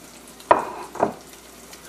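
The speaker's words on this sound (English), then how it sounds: "at this point you want to put in 2 or 3 of your tuna cakes" Tuna cakes going into hot oil just below smoking point: two short, close sizzle bursts about half a second apart, each fading quickly into a faint, steady hiss.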